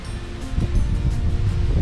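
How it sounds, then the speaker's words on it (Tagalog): Gusty wind rumbling and buffeting outdoors on a farm, a low, noisy roar with some rustling, no speech. "Mahangin siya."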